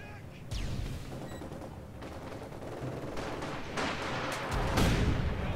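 Battlefield gunfire from the video game Company of Heroes 2 crackles through a steady fusillade of overlapping shots, growing heavier and louder toward the end.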